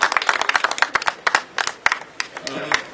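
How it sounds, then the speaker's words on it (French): Sparse, uneven clapping from a small festival audience at a book festival, with distinct individual claps and a faint voice near the end. "Donc je vous demande de l'applaudir très fort."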